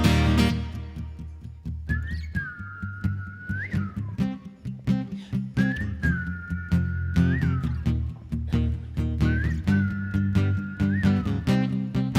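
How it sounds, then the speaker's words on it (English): An audience's repeated whistles rise and hold over a steady musical backing at a live concert at Caffe Lena, three long whistled phrases in turn, fairly loud and clear. "That was excellent whistling."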